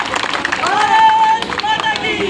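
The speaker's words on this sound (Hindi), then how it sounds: "इसलिए जोरदार ताली बजा करके" Crowd clapping at a political gathering in India after an election win, a dense patter of many hands with a voice speaking loudly over it throughout.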